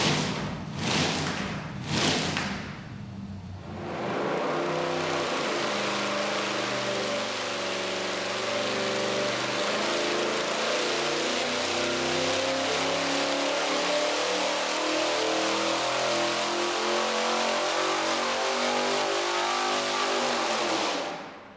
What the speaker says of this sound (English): we're firing up the Zoomies to burn the paint off of them and hopefully shoot fire